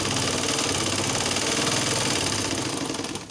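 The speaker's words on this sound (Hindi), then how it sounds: "हाणे असां हिन जी सिलाई हणंदासीं" A sewing machine runs a steady medium stitch through fabric for a homemade scrunchie made from leftover material, its continuous motor hum and rapid needle rhythm filling the clip without a break before easing slightly at the end.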